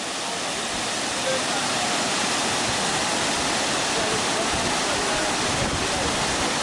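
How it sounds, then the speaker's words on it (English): Caribou Falls in Minnesota pours as a loud, unbroken broadband roar of rushing water, steady and close for the whole stretch, with no other sound standing out. "Caribou Falls, Minnesota."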